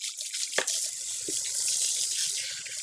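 Warm water runs steadily from a tap while hair is being washed, a close, continuous hiss with a few brief splashes near the start, no voices over it.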